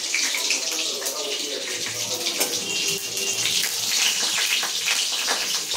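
Panch phoron (sambhura) spice mix and two chillies sizzle in hot cooking oil, a steady loud hiss with scattered crackling pops throughout.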